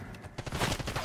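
A quick burst of rapid gunfire in Call of Duty Black Ops 6, a dense rattle of shots building over about a second, close and loud.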